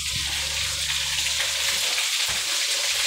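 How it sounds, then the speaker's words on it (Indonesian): Sambal ingredients, including honje, fry in a pan with a steady loud sizzle and crackle, broken by a couple of low knocks as they are stirred. "Kita menggoreng dulu guys."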